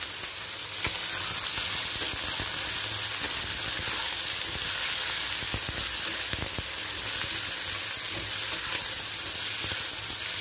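Green onion sizzles and crackles in very hot oil while being stirred for an instant noodle dish, a loud, steady frying hiss with scattered pops and scrapes of stirring throughout, no talking.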